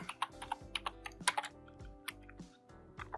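Code is being typed on a computer keyboard in quick, uneven bursts of crisp key clicks, some heavier strikes standing out, with no one talking.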